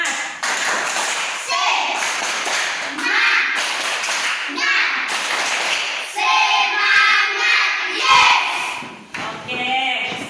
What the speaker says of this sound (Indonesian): kita bangun berdiri, tepuk semangat.